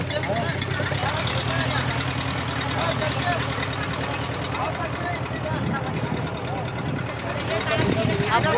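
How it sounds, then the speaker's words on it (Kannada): A boat engine on the Ganga at Varanasi chugs and knocks steadily at close range throughout, its loudness barely changing. "ಬೋಟ್ ಹೋಗ್ತಾ ಇದೆ"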